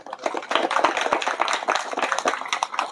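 An audience at an Indonesian organization's speech event claps, producing dense, fairly loud applause that runs continuously for a few seconds with no talk over it.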